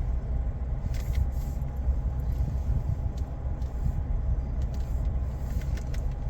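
A 2025 Chevrolet Trax Activ rolls slowly backward, heard as a steady low engine and tyre rumble with a faint constant tone above it and no sharp events.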